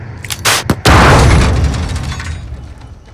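Flashbang grenade blast in a tactical espionage shooter game built in Unreal Engine: a few sharp pops and clicks, then a loud, sudden boom with a broad roaring wash that slowly decays over several seconds, very close and dominant.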